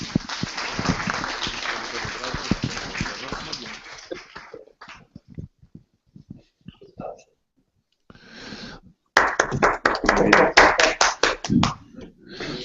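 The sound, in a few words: audience applause after a debate presentation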